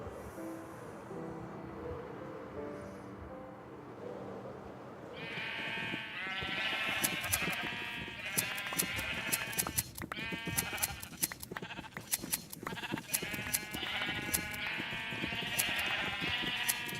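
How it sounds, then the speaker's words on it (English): Sheep in a castle-building video game bleat repeatedly in quick bursts after a quieter stretch, the calls close and overlapping over a soft background. "Let's go shear some sheep"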